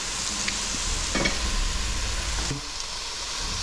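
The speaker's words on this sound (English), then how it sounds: "you want a Maillard reaction, you want to brown the meat, really good" Meat browns in a hot pan for Japanese curry, a loud close sizzle with stirring clatter and scraping bursts before the frying settles to a quieter hiss.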